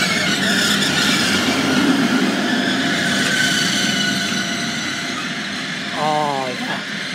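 A Hull Trains Class 180 diesel unit, 180111, passes through Doncaster station with a loud, sustained roar and rumble close by, easing slightly before a short squeal near the end.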